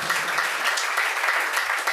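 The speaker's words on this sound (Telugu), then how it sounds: "చప్పట్లు కొట్టి ప్రభువుని గణపరుద్దాం" A church congregation clapping to praise the Lord at a family blessings meeting, dense continuous applause from many hands, loud and close throughout.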